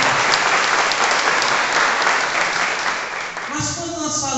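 Clapping from an audience at a church family gathering and spirituality meeting, a loud continuous roll of applause that fades near the end as a voice begins speaking over the dying claps.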